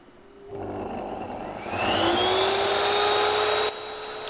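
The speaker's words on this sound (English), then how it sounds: "Using my XL table saw to cut it to the correct thickness that I need." An XL table saw cuts pallet wood to thickness, its motor whine climbing in pitch and holding at a steady high drone for about two seconds before dropping back.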